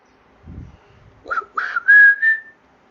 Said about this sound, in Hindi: सीटी मार रहा मेरे को?